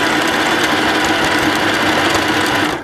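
A sewing machine runs a steady, fast zigzag stitch joining a skirt to a t-shirt, with a continuous close mechanical whir and rapid ticking needle strokes throughout.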